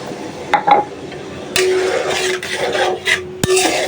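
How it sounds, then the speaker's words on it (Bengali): Taro pieces are sautéed with spices in a pan, heard as close scraping and rubbing stirs with a spatula, metallic clinks against the pan, and a sharp knock near the end. "কচুর সাথে ভালোভাবে মশলাটা কষিয়ে নিই"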